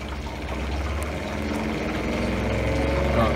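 An electric pump driven by a PWM controller runs while discharging water, a steady motor hum with a constant low drone and gradually rising intensity, close and uninterrupted.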